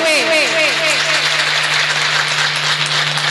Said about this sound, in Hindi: जोरदार तालियों के साथ सभी का स्वागत करते हुए